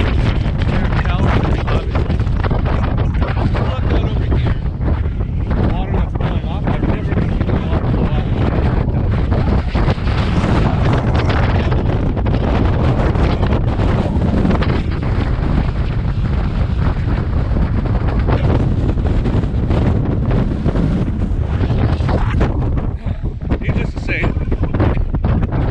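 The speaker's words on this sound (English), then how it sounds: "It's super windy." Strong wind gusts at Ghost Lake buffet the microphone in a steady, loud, rumbling roar that runs the whole time without letup.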